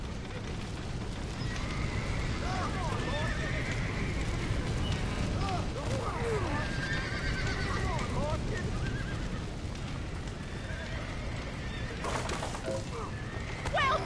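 Horses neigh and whinny repeatedly while hooves clip-clop steadily in a Red Dead Redemption game scene, set against continuous ambient rumble with voices talking over parts of it.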